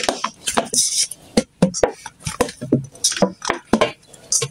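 Rolled dough being cut for chicken samosa, with a quick series of sharp knife taps and clicks on a board, close and irregular, and no talk.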